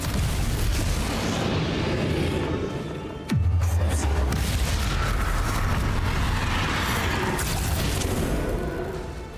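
Confringo fire spell explosions in Hogwarts Legacy: loud, booming blasts and crackling bursts overlap with dense game combat noise, with a sharp strong hit partway through followed by sustained rumbling.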